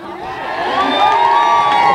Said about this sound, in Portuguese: A torcida vibrou